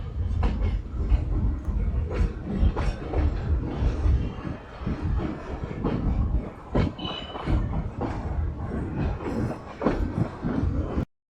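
Riding aboard a metre gauge train as it departs Dhari station: continuous heavy rumble with rhythmic clickety-clack of wheels over rail joints, loud and close, ending abruptly.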